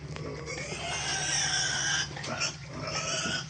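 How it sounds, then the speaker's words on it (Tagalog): Piglets squeal and grunt continuously in a noisy chorus, close by, with no talking. "Ito yung ating mga biik."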